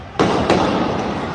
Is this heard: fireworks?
yes